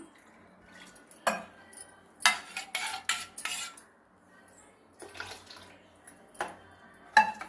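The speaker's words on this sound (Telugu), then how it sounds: "కొంచెం నీళ్ళు వేసుకుంటున్నాను" Water poured into a cooking pot of sago and moong dal payasam, followed by a metal spoon stirring and clinking against the pot in several uneven bursts, close and with quiet gaps between.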